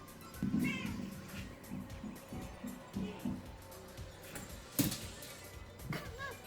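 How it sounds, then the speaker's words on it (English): Cats meow softly and intermittently in a quiet indoor setting, with faint, brief talk in the background. "And I was out playing with the cats."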